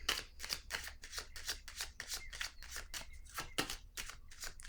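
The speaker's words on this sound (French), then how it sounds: "Je vais piger une autre carte." Playing cards are shuffled and drawn at a table: a quick series of about a dozen crisp riffling snaps and flicks, close and fairly quiet, with no talk.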